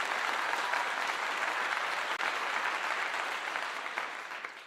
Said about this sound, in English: I clap for it again.